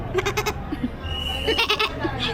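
A goat bleats in short, quavering calls, close and fairly loud, repeated a few times over a couple of seconds.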